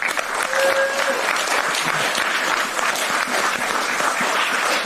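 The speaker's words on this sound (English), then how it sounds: "Let's give him a round of applause." A meeting audience claps in sustained, even applause from a crowd that fills the whole stretch, with faint voices mixed in.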